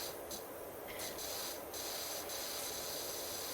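A pressure-washer spray in a cleaning video game gives a steady, close hiss of rushing water, continuous throughout, with faint brief tonal blips over it.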